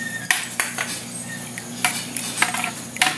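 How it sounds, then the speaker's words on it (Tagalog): A utensil stirs a sago and gulaman dessert with pandan in a metal pot, giving repeated scraping clinks and knocks in an irregular rhythm, close and fairly clear. "Halo-haloin lang natin."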